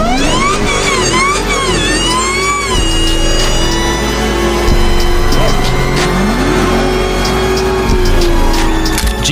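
A loud, continuous roar of Dodge Hellcat engines with rising and falling pitch sweeps, like powerful cars accelerating and passing close by.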